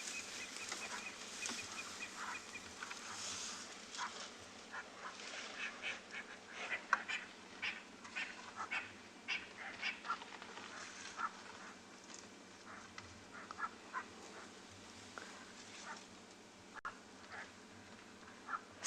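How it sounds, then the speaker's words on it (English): Grey go-away birds calling from a tree at dusk in the Kalahari: repeated nasal, bleating calls at moderate distance, irregular and overlapping, over quiet background with almost no talk. "See some grey go-away birds in the tree there. You can hear them."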